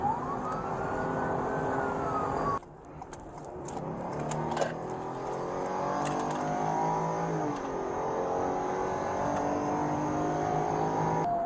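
A car engine roars and revs at high speed during a police chase on a westbound road, steady and loud, with a wailing siren rising and falling over it and no talking.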